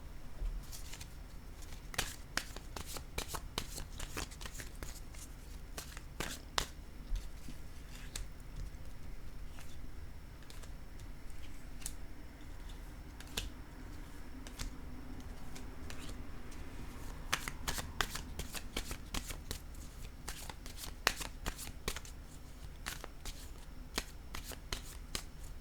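Tarot cards are shuffled near a quiet room's microphone, soft repeated riffles and papery flicks in irregular bursts, clustered more densely toward the end, with no talking.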